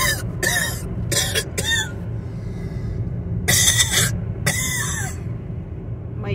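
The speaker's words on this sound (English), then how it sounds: "driver can stop coughing." A person inside a car in a residential neighborhood coughs and clears their throat in several sharp bursts, close and fairly loud over a steady engine and road rumble.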